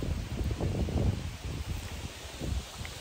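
Wind blows across an open, desolate ranch on a cool July day, gusting in uneven rustling bursts with some buffeting, alone without talk.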